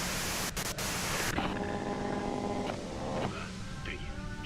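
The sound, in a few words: white noise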